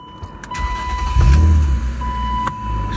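A high-mileage Techno Violet BMW M3 engine cranking and catching, a loud low rumble swelling from about one second and settling into a steady idle close by, with no talk.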